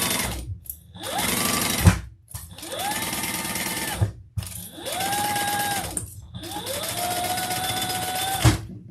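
A sewing machine bastes a quick, narrow stitch in four close, loud runs, each whirring up and holding a steady rising hum, separated by brief clunks and pauses.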